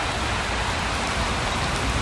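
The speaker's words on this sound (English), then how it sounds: "Na see heavy rain." Heavy rain pours steadily in Paris, a dense, constant wash of drops beating on surfaces close by, with no voices and no break across the two seconds.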